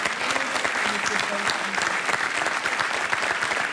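A French TV game show studio audience claps for a departing contestant, with brisk, dense applause that stays loud and steady throughout.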